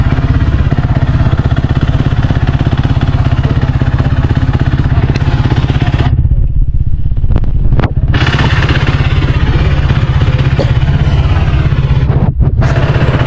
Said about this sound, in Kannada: ಇವಾಗ ಅವರು ಟೆಸ್ಟ್ ರೈಡ್ ಮಾಡ್ಕೊಂಡು ನೋಡ್ತಾರೆ ಗಾಡಿಯಲ್ಲಿ ಏನೇನು ಪ್ರಾಬ್ಲಮ್ಸ್ ಇದೆ